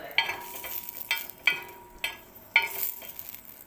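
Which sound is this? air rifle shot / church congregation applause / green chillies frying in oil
green chillies frying in oil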